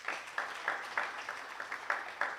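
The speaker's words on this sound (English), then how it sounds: "I think a round of applause to them." Light applause from a conference audience, a small number of claps in a loose, regular rhythm, faint and a little distant, continuing for about two seconds.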